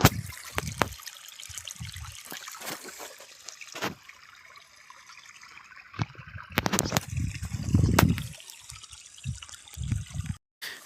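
Water from a tap trickles and splashes into a grass field, faint and uneven with irregular gurgles and drips, plus a louder splashy surge near the end.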